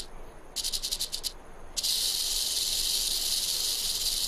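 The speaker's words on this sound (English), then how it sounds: "the snake can keep rattling for hours and not get tired." Rattlesnake shaking its rattle of loosely joined modified scales, a close, loud dry buzz that pulses briefly, pauses, then settles into a continuous hiss-like rattle.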